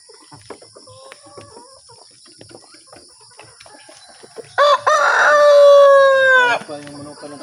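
Chickens in a backyard coop make soft scattered clucks and rustles, then a rooster lets out one loud, close, drawn-out crow lasting about two seconds before the quieter coop sounds return.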